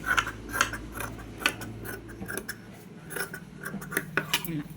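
Small metal sewing pins pulled out of fabric while stitching a shaped belt, giving a series of faint, close, crisp metallic clicks and ticks in an irregular rhythm, with a low background hum.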